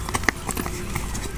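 Horse hooves clip-clopping steadily at close range as the horses are led home after practice, with a faint background murmur.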